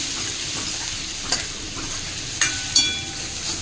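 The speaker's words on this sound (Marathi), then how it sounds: "हे आपण जे वाटण केलं होतं लसूण आणि मिरचीचं ते टाकून देऊ" A garlic and green chilli paste frying in a pan, heard as a loud continuous close sizzle with a few sharp metallic clinks from the stirring spoon and no talk.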